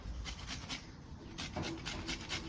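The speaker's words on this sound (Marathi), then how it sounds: "हे नारळ पण आपल्याला छान असा किसून घ्यायचा आहे मग मी इथे छोटी किसणी घेतली आहे" Fresh wet coconut is grated on a small hand grater, producing quiet, rhythmic rasping strokes that repeat in quick succession up close.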